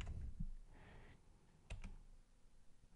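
A command is typed on a computer keyboard: a few faint, sparse key clicks close by in a quiet room.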